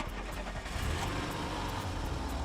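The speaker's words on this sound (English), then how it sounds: "I'll rev the car for you guys again." A car engine runs loudly and steadily, its low rumble swelling slightly as it revs, with no voices over it.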